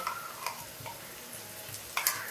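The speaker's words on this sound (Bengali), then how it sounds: "এই মশলাটা দিয়ে ভাজা ভাজা করবো" A ginger, garlic, onion, dry and green chili masala fries in a pan with a soft steady sizzle, broken by a few light scraping ticks as it is stirred.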